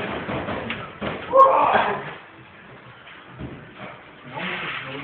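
A door or window slams loudly during a storm in Constanța, with people talking over and around the bang and a steady rushing background.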